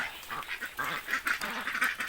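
Ducks quacking and honking together with chickens as they feed on a small farm, a busy, continuous chorus of calls at moderate distance.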